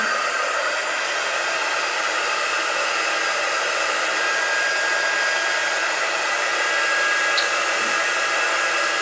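Hair dryer blowing on a chalk-painted Thanksgiving pumpkin, a loud steady whooshing motor hum held constant throughout, close up and alone.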